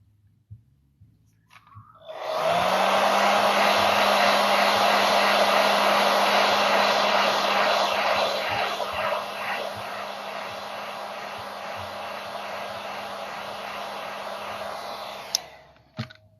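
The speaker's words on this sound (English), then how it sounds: "I've been using the blow dryer, applying some low heat to it." A hair dryer on low heat switches on and blows with a steady, loud whooshing hum while warming wrap film on a Mach 1 badge, running for a long stretch before cutting off with a click.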